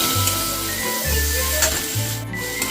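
A large tomato frying in a pan for Bengali cabbage bharta, a steady soft sizzle with scraping and rubbing of a spatula stirring in short strokes, close and continuous.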